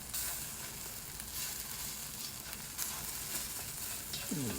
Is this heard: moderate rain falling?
no